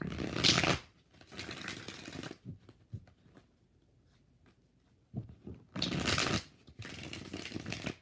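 Tarot cards are shuffled in soft, quick riffling bursts, two stronger rounds at the start and end with quieter card handling and taps between, all faint and close.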